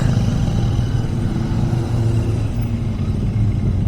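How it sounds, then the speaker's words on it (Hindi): Sports motorcycles, a Hayabusa and a Ninja, pass on a highway near Mumbai and Pune, a loud steady engine rumble and roar with road and wind noise throughout. "सब स्पोर्ट्स बाइक है अभी। ये भी हायाबुसा, ये भी आई निंजा।"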